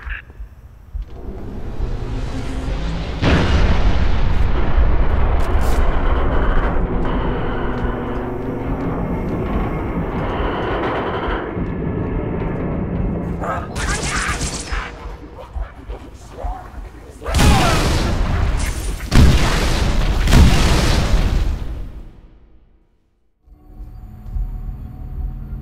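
Artillery final protective fire barrage in the Halo game, deep rumbling booms rolling on for seconds, with a burst of sharp blasts near the end, then a short pause and more rumbling; voices talk over parts of it.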